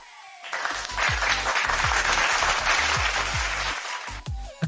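Dense applause from an audience fills the span, steady and fairly loud, with a low rhythmic beat pulsing underneath and no talk over it.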